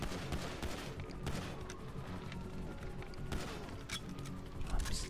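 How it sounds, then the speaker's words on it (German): Gunfire in GTA 5 Online, a dense run of game gunshots and bursts with clatter and crashes over a busy, steady background, loud throughout and with no talk. "Und jetzt noch mehr Geballer."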